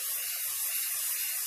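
Hairspray sprayed from an aerosol can, a continuous bright hiss held for over a second at close range.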